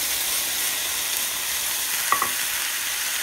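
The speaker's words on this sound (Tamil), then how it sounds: "இப்போ நம்ம எடுத்து வச்சிருக்கிற தக்காளி ஜூஸை இது கூட சேர்த்துக்கலாம்" Tomato juice poured into a pan of sautéing onions, ginger and chillies with curry leaves, giving a steady broad sizzle throughout, broken by a couple of brief clinks near the end.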